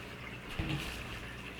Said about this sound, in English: So as soon as I plugged it in, you see, it pumps the water up